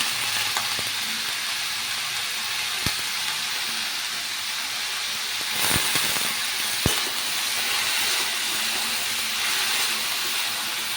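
Pumpkin pieces fry in hot oil over a high flame, a steady dense sizzle with a few sharp crackles and spatters, close up and uninterrupted, with no voices.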